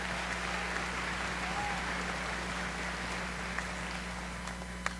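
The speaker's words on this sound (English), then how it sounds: "Give them another round of applause." Faint, distant applause from a concert audience at a music festival grand finale, a soft steady patter sitting over a low constant hum for several seconds.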